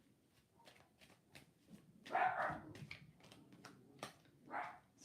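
A pet dog barks at the neighbour's dog, sharp barks near and far in bursts over about five seconds, with a few faint spoken words.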